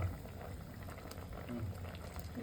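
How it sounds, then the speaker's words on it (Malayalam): Tamarind water for a homemade fish curry simmers at a rolling boil in a pot, a soft continuous bubbling with small pops, fairly quiet and close. "അളവുക്ക് തന്നെ തിളച്ചുകൊണ്ടിരിക്കാം കേട്ടോ"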